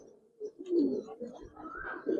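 Giribaz pigeons coo softly nearby at a market in Narayanganj, a couple of low, murmuring coos running into each other with no speech.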